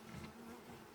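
Honey bees buzz at the hive during a package inspection, a dense, steady low drone of many insects close up, continuous and fairly quiet.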